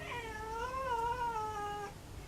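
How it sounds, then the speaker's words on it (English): A domestic cat gives one long, wavering meow of about two seconds, close and clear indoors, with no voices over it. "I seem to have a cat got in here"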